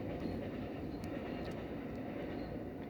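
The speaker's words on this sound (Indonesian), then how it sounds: "ada kereta soalnya rumahku deket kereta. Bukan kereta sih, KRL." A KRL commuter train passing close to a house, heard as a steady low rumble with a faint rolling rattle that holds at an even level throughout, with no voices.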